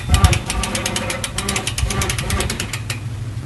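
A hand winch lowers a Javelin 16-4 grain auger with a rapid, even ratcheting clatter that runs steadily throughout, close and fairly loud, under a faint hum.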